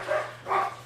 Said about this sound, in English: these dogs are like driving me nuts.